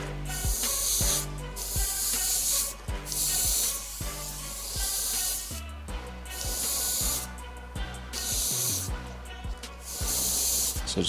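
An airbrush hisses in repeated bursts of paint through a Texture Effects 1 template from Art Tool Templates to build a rust effect, with close, steady spraying broken by short pauses.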